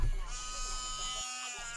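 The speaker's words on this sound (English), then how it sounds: "work on getting off any extra bits of paint and oxidation with the wire wheel" Wire wheel spinning on a Dremel rotary tool, scrubbing paint and oxidation off a cast Hummer H3T model body: a high, steady whining buzz with a grinding hiss, close and continuous for a moment.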